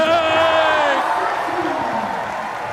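A crowd at a FIBA 3x3 basketball World Tour event in Utsunomiya cheers and whoops loudly, with rising and falling shouts that fade into a broad, continuous clamour of the audience.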